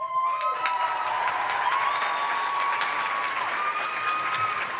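A live audience of hundreds at a school finals event applauds and cheers the finalists coming on stage, a dense, loud, continuous wash of clapping with a few whistles.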